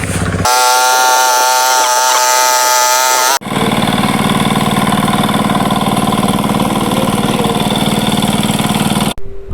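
A tractor engine idles steadily close by in a waterlogged paddy field, a loud continuous rumble with a droning hum that holds for several seconds.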